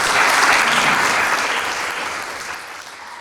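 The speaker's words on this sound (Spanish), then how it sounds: "Dale un fuerte aplauso." Congregation applause at a church sermon, a loud, dense burst of many hands clapping together that slowly thins and fades over a few seconds.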